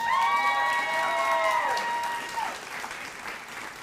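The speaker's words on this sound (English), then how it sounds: "Let's give him a round of applause for that." Applause and cheering ring out for a student at a 2023 Johns Hopkins multicultural graduation celebration, with a sustained cheering voice over a steady wash of clapping from a crowd.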